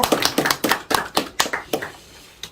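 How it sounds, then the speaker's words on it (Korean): A lecture audience at a public talk on the Cheonbugyeong gives a short round of scattered hand claps to welcome a professor, about a dozen distinct claps fading out within a few seconds. "여러분 박수로 환영해 주십시오"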